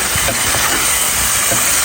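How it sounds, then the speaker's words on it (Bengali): Pre-steamed cauliflower and potatoes fry in hot oil in a pan with a loud, close, steady hiss of sizzling that runs unbroken through the short moment. "দিয়ে দিলাম ফুলকপিগুলো,"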